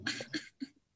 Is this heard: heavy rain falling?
no